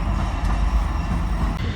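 Railway train rolling past near the Mississippi River, a loud, continuous low rumble with faint rhythmic wheel clatter through a short stretch.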